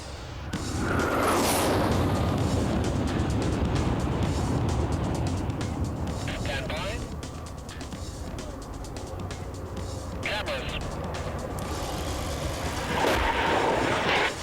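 A jet plane taxis out ahead of an ejection seat test, its loud, steady engine roar filling the scene from start to finish with a brief swell near the end.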